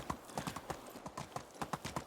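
A ridden donkey's hooves clip-clop in the Medieval Dynasty video game, a quick, even trotting rhythm of soft thuds, fairly quiet and close, with no voices.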